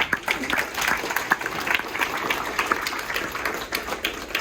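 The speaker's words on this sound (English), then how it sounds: "Big round of applause, please." Audience applause at a Roosevelt High School presentation by an art collective, a dense steady wash of many hands clapping at moderate volume, close and continuous throughout.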